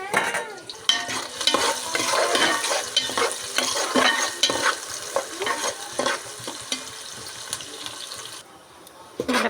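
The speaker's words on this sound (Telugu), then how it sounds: "ఉల్లిపాయలు బాగా ఫ్రై అయిపోయినాయి కదా" Onions frying in a pot for biryani, loud bubbling sizzle with constant stirring and scraping, easing off near the end before a final clatter.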